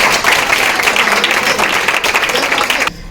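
Schoolchildren at a science communication forum in a composite school in Pagara Deoria applaud a student, a dense, steady wash of clapping that holds loud and close for about three seconds, then stops abruptly.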